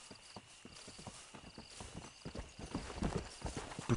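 Horse hooves clip-clop in the Western video game Red Dead Redemption, a quick irregular run of hollow knocks that grows louder and busier toward the end, with no speech.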